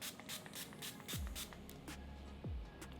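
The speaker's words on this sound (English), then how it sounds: "Let me just spray some." Makeup setting spray misted from a pump bottle in a few short, soft, close hissing bursts, with no talking.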